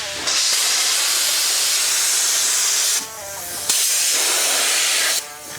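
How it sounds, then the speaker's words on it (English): Sandblaster blasting air and sand at a Harley-Davidson drift trike frame, a loud continuous broadband hiss that cuts off briefly twice, then resumes, close and steady with no talk. "This is a sandblaster, right?"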